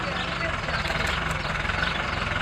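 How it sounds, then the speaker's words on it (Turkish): A tractor engine runs at a steady, throbbing idle close by, with a low even rumble throughout and faint background activity on a farm field. "Hayır şu traktörü bas yavaşça."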